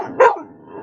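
A pet dog lets out one short, sharp bark nearby, clear and isolated, with quiet room tone around it.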